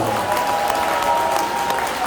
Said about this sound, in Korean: 긴 시간 세워주는 정강 목사님께 감사의 박수를 보내주시기 바랍니다